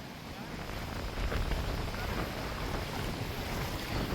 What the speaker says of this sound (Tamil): இந்த இடத்துல ஃபுல்லாக ரோட்டை வந்து தண்ணி மூடி பாயுது